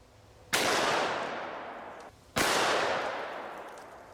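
Two loud, sharp shots from a Smith & Wesson 629 .44 Magnum revolver with a 6.5-inch barrel firing Underwood 300-grain jacketed hollow points, spaced about two seconds apart, each with a long ringing decay.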